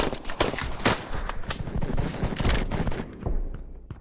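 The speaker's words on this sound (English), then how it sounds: "I'm using the minigun now" Video game minigun fire roars in dense, rapid bursts of machine-gun shots for about three seconds, then cuts off abruptly, leaving a quieter tail.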